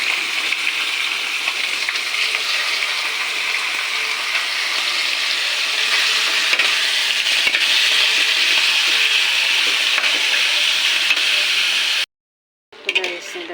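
Squid frying in a hot pan with mixed vegetables gives a dense, steady sizzling hiss with faint crackles that holds evenly for several seconds, then cuts out briefly before resuming near the end.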